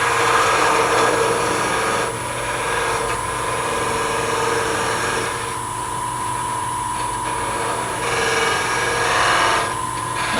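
A skew chisel parts off wood on a spinning lathe, giving a steady, close, rough scraping hiss over the machine's low hum that swells and dips slightly throughout, with no talking.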